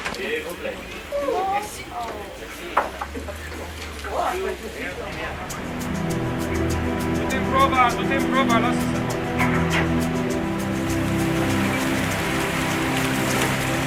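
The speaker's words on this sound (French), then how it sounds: "Une petite pluie estivale se déclenche juste à l'instant du départ." Light summer rain falls on a Danube river cruise boat leaving Novi Sad, a steady soft patter of drops, with a narrator speaking throughout and a low engine hum settling in partway.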